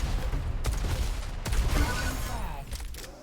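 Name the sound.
lightning gun (LG) shaft firing, from a Quake duel video game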